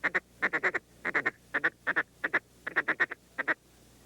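A duck call imitates a flock of ducks clucking, giving repeated short bursts of three to four quick clucks with brief pauses between groups, close and fairly clear.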